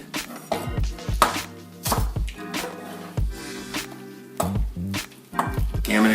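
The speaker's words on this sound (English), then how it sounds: "I'm going to just go a cross cut on the white part of the onion, and then I'm going to cut on an angle on the green part of the onion" Green onions are chopped with a knife on a cutting board, white part cross-cut and green part sliced on an angle: a series of sharp, irregular thuds and clacks up close, with brief pauses between bursts.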